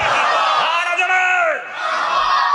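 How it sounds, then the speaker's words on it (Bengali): A large crowd at a religious sermon loudly chants 'marhaba' in unison, a sustained, swelling roar of many voices that dips briefly before rising again. "জোরে জোরে বলেন মারহাবা।"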